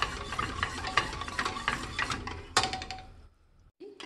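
A spoon stirs and scrapes through chocolate cake batter in a pot over the heat. The clinks against the metal come in a steady, close rhythm, then pause near the end before a short final sound.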